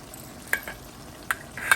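A small fish curry (chorchori) fries quietly in a pan as tomatoes go in, with a soft sizzle and a few brief scrapes and clinks from stirring.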